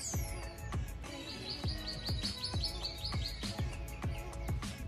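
Small birds chirp and tweet outdoors in a Russian town, a dense run of quick bright calls and repeated trills close by, filling the air without any talk.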